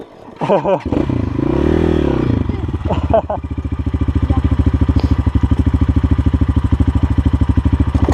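Dirt bike engines, a KTM 65 and a Chinese 250cc, heard close and loud. One revs and bogs in rising and falling sweeps, then settles into a rapid, steady buzzing idle, with a voice briefly audible.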